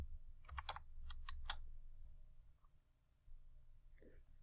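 Typing on a computer keyboard while entering a value in AutoCAD, a quick cluster of faint keystroke clicks followed by a few more isolated taps over quiet background hum.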